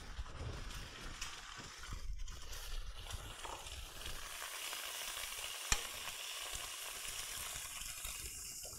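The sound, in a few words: egg frying in a pan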